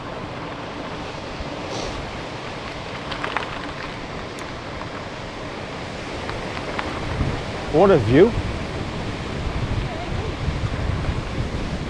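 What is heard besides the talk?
rough sea waves and wind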